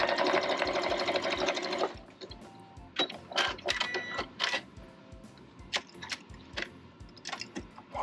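Stitching an old quilt, a sewing machine runs loud and steady for two seconds, then gives way to a string of short clicks and thumps as the work is adjusted.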